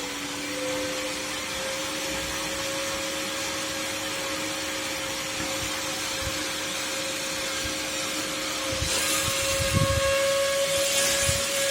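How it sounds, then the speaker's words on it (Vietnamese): A small 12V fan powered by a reused phone charger gives a steady whirring hum with a thin tonal whine that grows slightly louder toward the end. No one speaks. "Các bạn có nghe tiếng quạt nó tăng lên không?"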